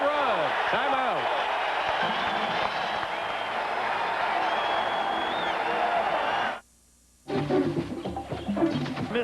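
Loud arena crowd cheers and roars for the Knicks during a 7-0 run in a 1994 NBA playoff game against the Nets, a sustained dense din that cuts off abruptly for a moment before resuming with scattered shouts.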